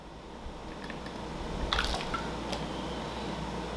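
Twelve eggs with vanilla extract being beaten for a rich wedding cake batter, making a steady wet squishing and churning that runs throughout at a moderate, even level.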